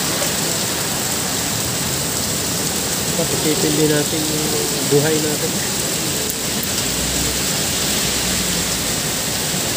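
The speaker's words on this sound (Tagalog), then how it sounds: "Grabe, lakas ang ulan." Heavy storm rain pours down in a dense, steady hiss that fills the whole stretch, loud and close, while a person talks briefly underneath.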